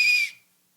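A single short, shrill lifeguard whistle blast, loud and close, lasting about a third of a second before cutting off into silence.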